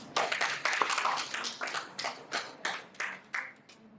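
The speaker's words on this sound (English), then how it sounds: "can we give a round of applause, please?" A small audience at a breakout session claps, the sound sparse and uneven, tapering into a few separate claps by the close.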